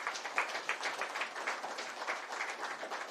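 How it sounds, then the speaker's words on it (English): A live audience at a Business Continuity Awareness Week event breaks into applause, a steady, fairly soft patter of many hands clapping that holds evenly for a few seconds. "Welcome him with a big round of applause."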